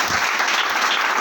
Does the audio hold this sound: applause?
yes